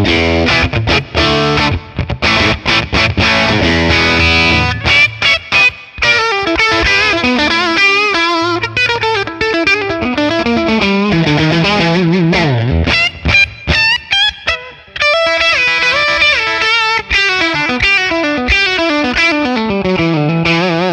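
Electric guitar is played through a 1964 Selmer Treble n Bass 50 amplifier on its bright channel with reverb added, giving a continuous crunchy, distorted playthrough of chords and single-note lines with no talking.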